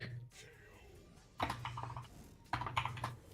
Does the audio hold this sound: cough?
no